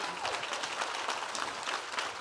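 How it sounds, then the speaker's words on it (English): A live podcast audience at a crafting convention breaks into sustained applause, thick and continuous clapping from a crowd. "Give a round of applause"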